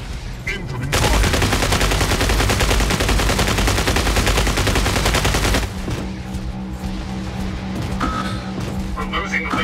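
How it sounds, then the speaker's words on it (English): Dense, sustained rapid gunfire in a racing-style video game, loud and continuous for several seconds before dropping to a quieter bed of engine-like hum and scattered effects, with a voice talking over it. "Incoming fire."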